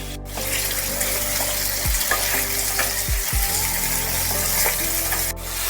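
Potatoes frying in a wok, salted and stirred as they cook: a steady broadband sizzle runs throughout, with a few low thumps and scrapes from stirring, close and continuous with no talking.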